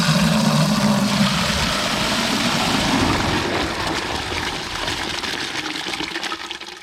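Rainwater pouring steadily into a first-flush diverter tube, a loud continuous rushing gush that gradually softens and thins as the tube fills.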